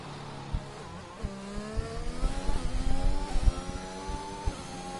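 A Williams race car engine in a racing video game, whining and rising in pitch through repeated gear changes, with brief dips between shifts at steady moderate loudness.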